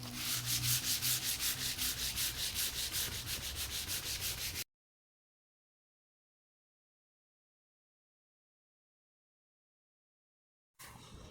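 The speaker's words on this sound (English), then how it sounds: "then we will give it another sand, a final 220 again" Varnished timber is hand-sanded with 220-grit paper between coats, making rhythmic, close back-and-forth rubbing strokes for several seconds, then silence before a brief return of the sound.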